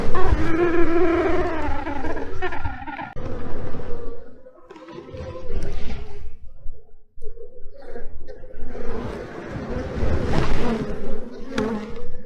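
Honey bees drone and buzz steadily around an opened beehive during a September honey harvest, the hive's queen recently replaced; the dense swarm hum stays close and fairly loud for the whole stretch, with handling noises among the frames.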